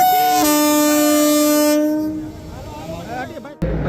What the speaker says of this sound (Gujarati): ઓખા તિરુપતિની સાપ્તાહિક એક્સપ્રેસ ટ્રેનની શુભ શરૂઆત કરવામાં આવે છે, શુભારંભ કરવામાં આવે છે